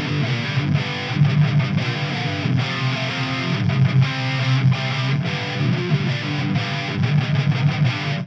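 Loud electric guitar through a Lichtlaerm Audio Ritual distortion pedal into a slightly dirty amp, with gritty, saturated chords ringing continuously and rhythmic strums punching through.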